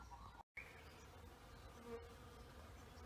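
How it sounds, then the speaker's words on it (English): Bees arriving at cactus flowers in early morning, a faint continuous buzzing hum of several insects, near and steady, with a brief dropout, no talking. "this is early morning and the bees have just started arriving"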